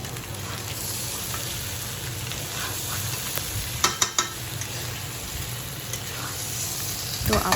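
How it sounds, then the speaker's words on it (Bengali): Chicken pieces frying with spices in a hot pan, a steady close sizzle that keeps going throughout, with a few sharp clatters of stirring near the middle and no talking. "আমরা ভাজতে থাকবো।"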